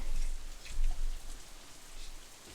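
Heavy rain pours outside an open window, a broad steady hiss of falling water with soft low thumps early on, moderately loud and unbroken throughout.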